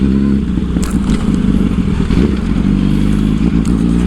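A 2008 Yamaha R1 sport motorcycle runs up close and loud, its inline-four engine giving a steady low rumble with a few sharp clatters and revs over about four seconds.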